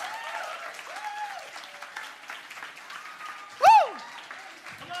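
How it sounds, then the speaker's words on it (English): Audience applause at an Easter church performance rises as a steady wash of clapping under a speaker's voice, with a brief loud whoop near the end. "A big round of applause."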